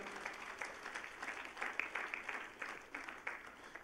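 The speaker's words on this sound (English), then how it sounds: "Let us clap for the professor." A church congregation claps for a visiting professor after a Bible teaching on the Book of Judges, uneven clapping rising and falling in loose bursts, moderately quiet and somewhat distant.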